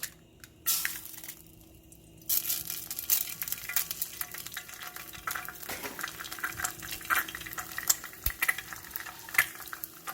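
An egg frying in a tablespoon of olive oil in a fresh pan for gimbap, a close, crackling sizzle that starts after a brief quiet spell and keeps popping and spattering, with a few utensil clicks.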